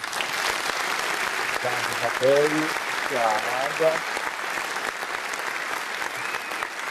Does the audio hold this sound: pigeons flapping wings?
no